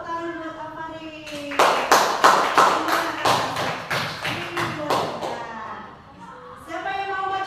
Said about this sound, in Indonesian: tepuk tangan buat Afari